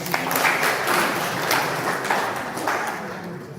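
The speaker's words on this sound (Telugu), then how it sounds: "గట్టిగా చప్పట్లు కొట్టు." A gathered audience claps loudly during a spiritual talk, producing a steady wash of applause that swells early and tapers off toward the end.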